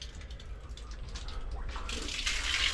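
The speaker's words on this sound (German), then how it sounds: "Und da kommt hier einmal komplett das Wasser raus." Water gushes from an outdoor tap or hose-style fitting, a steady broad rush that swells and grows louder toward the end, with low rumbling background underneath.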